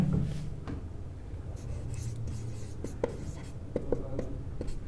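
Pen or pencil writing by hand on paper while working a Class 10 maths exercise, soft scratchy strokes in irregular bursts with a low background hum.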